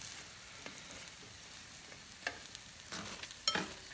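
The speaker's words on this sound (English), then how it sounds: "now that this is nice and hot, I'm going to chuck this into the marinade" Hot food is dropped into a marinade for vegan sushi, giving a steady sizzle with scattered pops and crackles and a few louder splashes toward the end.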